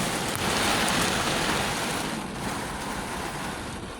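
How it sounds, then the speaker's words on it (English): Heavy rain pours steadily during a storm under a tornado warning in Montgomery County, a dense, continuous hiss of downpour close by with no voices. "Like, this is a lot of rain."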